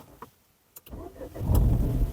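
A Renault Captur with a 1.0 LPG engine starts from cold: a couple of clicks, a brief starter crank, then the engine catches and settles into a close, steady idle.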